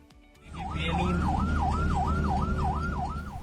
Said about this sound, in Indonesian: pengemudi mobil tidak memberi jalur bagi ambulans mendahului meski sirene telah dinyalakan